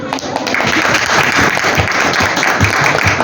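An audience applauds at a corporate award ceremony with dense, sustained clapping that fills the whole stretch at a steady, loud level.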